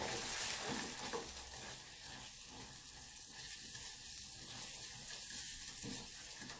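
Flour cooks in melted butter in a saucepan for béchamel, giving a soft, steady sizzle with faint stirring scrapes, quiet and continuous.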